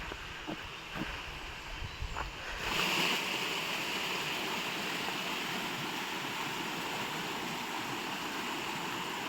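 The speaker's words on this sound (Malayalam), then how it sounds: "ഓൺ ദ വേയിൽ തന്നെ കുറേ കുട്ടി കുട്ടി വാട്ടർഫാൾസ് ഉണ്ട് അല്ലേ" Small waterfalls and a stream along a Lake District trail near Windermere and Ambleside give a steady rushing wash that swells in after a few seconds of quieter outdoor ambience and holds even and moderately near.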